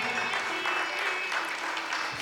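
Applause from an audience welcoming the senior citizens' winner at a singing contest, a steady continuous wash of clapping lasting the whole short moment with no pauses.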